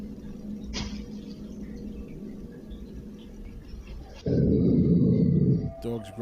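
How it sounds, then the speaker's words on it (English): A dog growls low and steady on home security camera footage, then a louder, rougher burst of growling and scuffling noise takes over near the end before cutting off abruptly. "Dog's growling."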